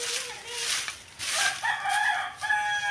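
A rooster crows and a chicken clucks close by in a yard where fallen leaves and grass are being swept, with short bursty calls rising and falling over about three seconds.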